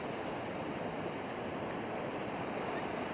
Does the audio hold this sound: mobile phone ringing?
no